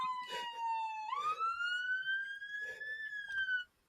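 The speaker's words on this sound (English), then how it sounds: "ambulance coming to pick up David." A wailing emergency siren sweeps in long rising and falling tones, loud and alone, passing nearby and cutting off abruptly at the end.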